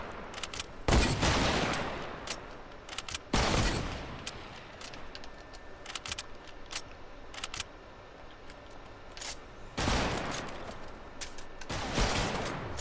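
Several separated bursts of gunfire in Fortnite, loud sharp volleys spaced seconds apart with quieter rattling shots between them.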